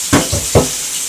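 Onions dropped into a hot pan beside pork chops, giving two quick, close bursts of frying sizzle that settle into a soft steady hiss.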